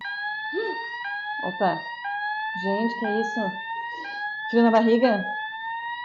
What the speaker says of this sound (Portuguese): Um alarme.